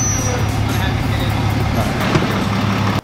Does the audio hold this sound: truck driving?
yes